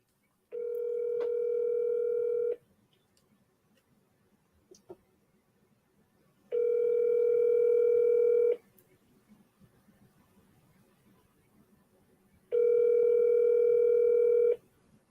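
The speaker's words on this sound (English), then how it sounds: "Did I dial that right?" A telephone ring tone repeats three times, each steady two-second buzz followed by about four seconds of quiet with faint clicks, heard clearly and alone.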